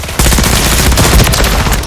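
Sustained automatic gunfire from a Modern Warfare 3 multiplayer match, loud and dense, with rapid overlapping bursts and no pauses for the full stretch.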